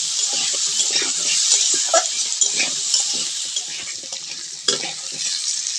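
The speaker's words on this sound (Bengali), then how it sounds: "লবণ হলুদ দিয়ে আলুটা ভালো করে ভেজে নেব" Potatoes fry in a pan with salt and turmeric, a steady close sizzle broken by scraping stirring strokes, with no voices.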